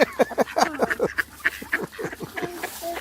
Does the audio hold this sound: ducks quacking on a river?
yes